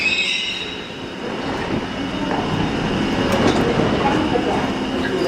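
A London Underground 1972 stock train rumbles past, its wheels squealing and clattering against a steady roar of motion.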